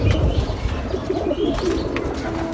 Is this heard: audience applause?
no